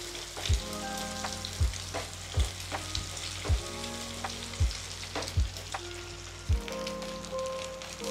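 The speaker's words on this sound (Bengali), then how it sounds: "এগটা আমার ফ্রাই হয়ে গেছে।" Eggs frying in a pan crackle and sizzle steadily up close, with regular dull knocks roughly every second and faint ringing tones, with no voices.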